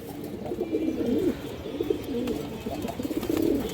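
A male Giyachuli pigeon coos in a steady run of soft, rolling calls, close by, with faint chirps and low background noise beneath.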